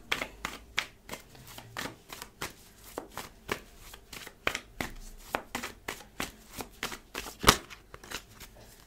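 Tarot cards being shuffled and drawn, a steady series of crisp, close riffling slaps and flicks at an even rhythm, with one sharper snap near the end; no talking.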